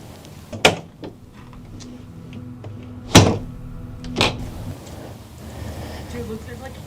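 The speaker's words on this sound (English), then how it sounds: "I locked that door in perfect time." An outside door in an abandoned building being shut and locked, with a sharp knock, a loud heavy thunk of the latch and a further clunk over a low background hum.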